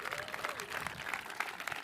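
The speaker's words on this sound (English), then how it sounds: "Yes, you can clap, Matt." Audience at a mayor's State of the City address applauding as a dense, faint wash of clapping, with a voice faintly audible underneath.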